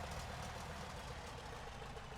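A Tiger Moth biplane's engine running up on the ground in Microsoft Flight Simulator 2024, giving a steady, continuous low engine drone with no change in level and no talk.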